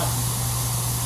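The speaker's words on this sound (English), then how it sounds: "Throw a little air on it." Compressed air blows onto a freshly sprayed carbon film coating, making a short, steady hiss over a low constant hum.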